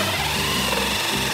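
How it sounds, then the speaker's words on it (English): A power drill bores a plug hole through a bathtub in a factory setting, giving a loud, steady, close whirring grind that runs without a break. "Can you hear the sound of the drill making the plug hole?"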